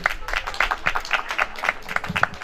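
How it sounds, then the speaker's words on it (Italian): Audience applause at an Italian book presentation in Diamante, a modest scattered clapping of a small crowd with uneven bursts, moderately quiet and steady across the short stretch. "E con questo io direi facciamo un grande applauso a Sabatini."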